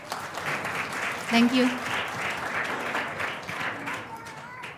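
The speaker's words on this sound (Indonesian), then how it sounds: "kasih tepuk tangan yuk" Audience applause fills a church hall during a sermon, a steady broadband patter at moderate distance, with a speaker's voice heard over and after it.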